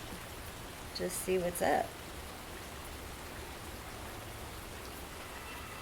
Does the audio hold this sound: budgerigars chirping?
no